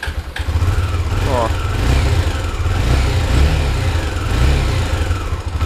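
A new motorcycle that is hard to start sputters into life and runs with a loud, rough engine rumble close by, revving unevenly while someone talks over it.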